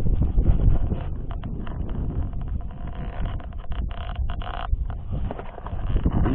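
Gusty wind blows outdoors in a quiet natural setting, buffeting the microphone with a heavy low rumble that rises and falls in uneven surges throughout, with no voices.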